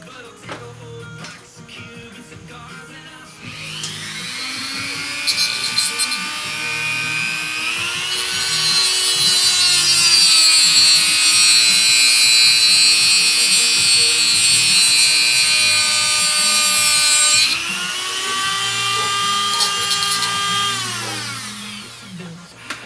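A high-pitched power tool cuts down a part for an SCX-10 XJ RC car, whining steadily for about twenty seconds. Its pitch climbs and drops as the load changes, and it is loud and close with no talking.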